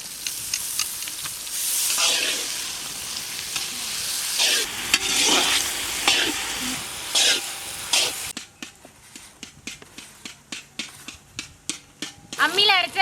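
Tomatoes frying in a pan while a kadai chicken is cooked village style, a steady hiss and sizzle with stirring scrapes, then quieter intermittent clicks and stirs; a voice talks over part of it.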